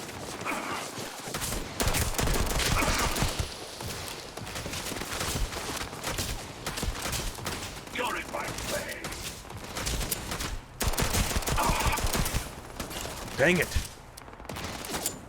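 Gunfire in the sci-fi video game Starfield: bursts of rapid shots and fusillades rising and falling across the scene, loud and close, with a player talking over it at times.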